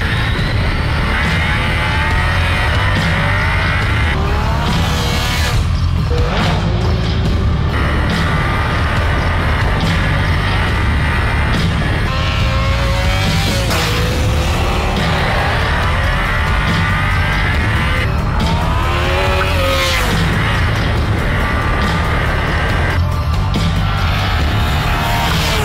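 Yamaha FZ-09 with its three-cylinder engine being ridden, engine note rising and falling through repeated revs and gear changes, loud and close with wind rush throughout.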